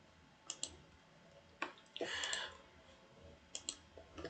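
Sharp computer mouse clicks on a download link, a couple of quick double clicks and a short rustle of handling in between, close and quiet in an otherwise still room.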